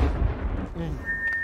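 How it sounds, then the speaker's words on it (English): A cartoon explosion effect in a Muppets food-fight kitchen scene: a short, heavy booming rumble that fades into a hiss, with a thin whistle-like tone near the end. "Now it is going to explode."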